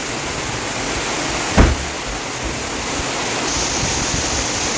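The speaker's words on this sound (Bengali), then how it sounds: "শুধু বৃষ্টি তাই নয়, প্রবল হাওয়া, মাঝে মাঝে এমন এমন ঝাপট দিচ্ছে" Heavy rain driven by strong wind makes a dense, loud, unbroken roar of noise, with one brief thump partway through and no voices.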